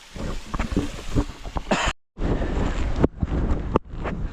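Gusty wind buffets the microphone in rough, loud rumbling bursts on a ride approaching Baler, cutting out briefly between gusts.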